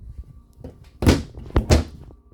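Three drawers inside a 2019 Grand Design Reflection 367BHS travel trailer shut one after another with wooden thunks, one firm knock followed by two quicker ones, close by in a quiet interior.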